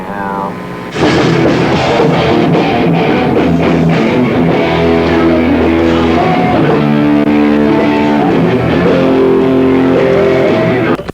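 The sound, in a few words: Live performance, a guitarist playing guitar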